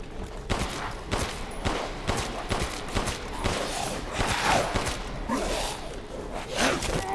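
Gunfire in the video game Resident Evil Village, a rapid run of sharp shots and impacts that repeats through the stretch, loud and close, mixed with game effects and no speech.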